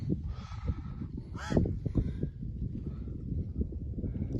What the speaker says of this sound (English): A bird up in that tree squawking at me.